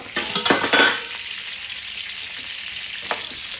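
Stuffed bitter gourds cook in a pan over a low flame, a steady moderate sizzle opened by a few clinks and scrapes of the pan and utensils.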